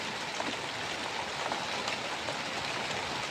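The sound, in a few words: light rain falling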